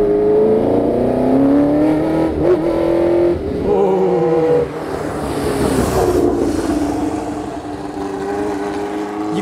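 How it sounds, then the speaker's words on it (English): A Formula One car engine screams loudly and continuously while driving on track, with the pitch rising and falling through gear changes and throttle shifts, no voices over it. "I am driving a Formula One car."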